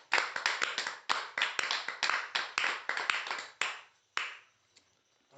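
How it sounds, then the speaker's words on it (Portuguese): A small congregation gathered in a home worship cell claps, with sharp, distinct hand claps in an irregular rhythm, fairly close and unaccompanied by speech, stopping after a few seconds with a couple of last stray claps. "Dê um aplauso ao Senhor Jesus."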